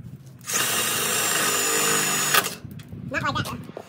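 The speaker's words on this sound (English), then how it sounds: "Now we're gonna start bolting these grounds in with a self tapper" A power drill runs steadily for about two seconds, driving a self-tapping screw into a frame to bolt grounding pieces in place, then cuts off abruptly as people speak nearby.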